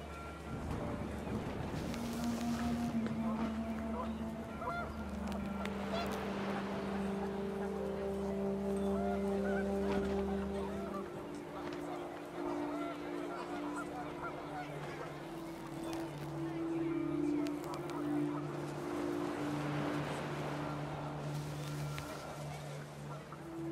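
Panicked geese honk in What Remains of Edith Finch, a string of overlapping nasal calls drawn out over a steady low background, moderately loud and without a break.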